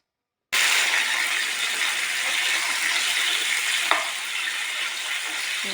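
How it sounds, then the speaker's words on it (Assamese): Fish pieces sizzling steadily in a hot pan for a fish curry with khutura greens, a constant loud broadband frying hiss after a sudden start, with one brief clink midway. "মাছখিনি ফ্ৰাই কৰি আছোঁ।"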